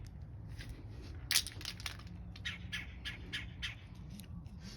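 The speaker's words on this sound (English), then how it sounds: "I hear the birds. They came out here." Blue jays calling outdoors among squirrels, a series of harsh squawking bursts repeating irregularly over faint background rumble, one louder call standing out near the start.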